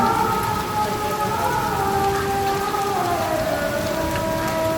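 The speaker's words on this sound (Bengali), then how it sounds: "কি সুন্দর বৃষ্টি এবছরের প্রথম মেঘ ডাকতেছে" Heavy rain of the season's first storm pours down in a steady, loud wash, with a low rumbling undertone of thunder beneath the downpour.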